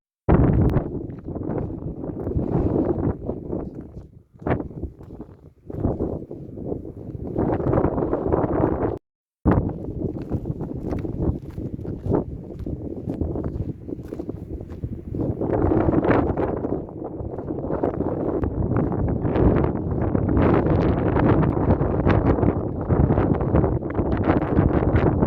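Strong storm wind from Storm Babet buffets the microphone on an exposed walk to a lighthouse in the Outer Hebrides, roaring and gusting close and loud without a break apart from a brief cut.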